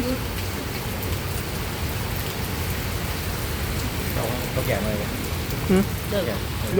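Steady rain falls outdoors, a dense continuous hiss with scattered nearby drips and taps, and faint voices murmur in the background toward the end.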